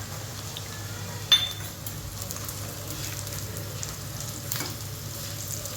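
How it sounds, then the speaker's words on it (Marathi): Onion fries in a pan with garlic and ginger added, a low, even sizzle with one sharp clink of a utensil early on and faint stirring after. "कांदा थोडा फ्राय झालेला आहे, आपण आता याच्यामध्ये गार्लिक टाकू, तसेच थोडं आलं टाकू"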